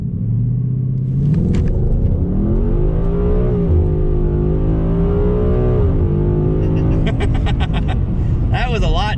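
A car with a Coyote V8 engine, traction control off, launches hard with a deep loud rumble and rising revs as the tires spin, a squeal of wheelspin near the end, heard close from inside the car.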